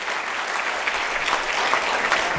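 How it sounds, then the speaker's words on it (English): An audience at a leadership speaker series evening claps for a mentor being introduced. Dense, loud applause runs steadily through the moment without a break. "let's give him a round of applause"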